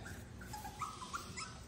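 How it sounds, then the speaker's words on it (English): Yorkipoo puppies whimpering softly, a few faint high thin whines scattered over low background noise, close by and brief. "So when they do that little whimpering like that,"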